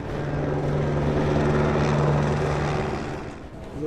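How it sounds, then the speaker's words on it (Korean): A police helicopter hovers overhead at a night gang operation in Los Angeles, its steady rotor drone and engine hum sustained and moderately loud throughout, with no talk. "헬기까지 지원 요청을 해놓은 상태."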